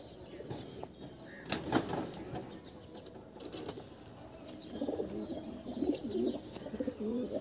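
Madras pigeons cooing inside a loft, soft low coos and occasional wing flaps that grow busier toward the end, moderately close, with no talk.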